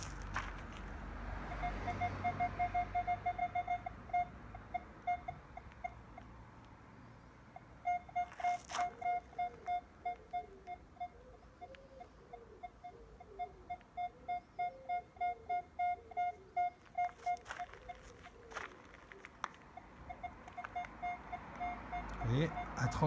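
Minelab Equinox 800 metal detector sweeping over deep ferrous targets in discreet mode, giving steady rhythmic beeps in bursts with gaps between passes, plus faint footsteps and soft outdoor background noise.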